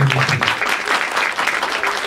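A burst of hand clapping from an audience, dense and steady for a couple of seconds, fairly loud and close.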